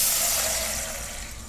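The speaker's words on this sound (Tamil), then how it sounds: "நெக்ஸ்ட் இதல நம்ம ஒரு கிளாஸ் தண்ணி ஊத்திக்கலாம்." Water poured from a glass into a cooking pan for sweet pongal, a steady close splashing gush that tapers gradually over about a second and a half, with no talking.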